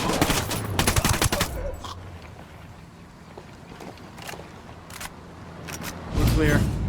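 Gunfire in the video game Ghost Recon Wildlands: loud bursts of shots crackle at the start, thin out to scattered distant reports, then a heavy burst returns at the end, with game voices heard over the fight.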